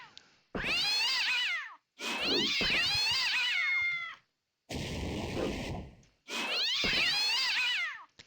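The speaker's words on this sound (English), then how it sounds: "How can one cat make so much noise? It's one cat here." A single cat in the game Ultima Online meows loudly and insistently, four long drawn-out yowling cries separated by short pauses, close and alone with no talk.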